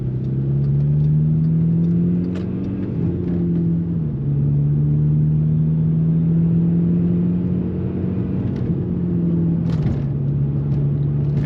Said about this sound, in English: There's definitely a weird noise now coming from the turbo.